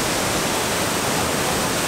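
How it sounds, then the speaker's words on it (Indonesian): The Gangga waterfall in North Lombok roars as a dense, constant rush of falling water, loud and unbroken, with no voices. "Ini air terjunnya letaknya pas di bawah rumah pohon Gangga"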